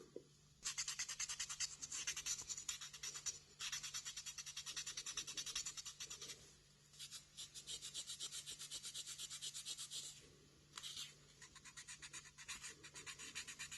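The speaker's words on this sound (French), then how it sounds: "Nous avons donc fini de poncer les lignes de collage, aussi bien sur le fuselage que sur les ailes." Abrasive rubs back and forth in steady, close strokes, sanding dried glue lines on the fuselage and wings of a model aircraft, a faint dry scratching with brief pauses between passes and a low hum beneath.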